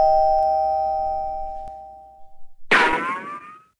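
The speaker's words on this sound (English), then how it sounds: "let's ding dong ditch King Dice's house." A cartoon doorbell rings with a bright two-tone ding-dong chime, loud and close, sounding once after a quiet stretch that carries a lingering steady tone.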